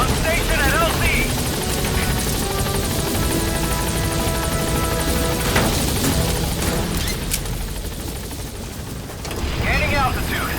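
The Pequod helicopter in Metal Gear Solid V: The Phantom Pain arrives at a landing zone, its rotor whirring loud and steady throughout while a radio voice speaks over it.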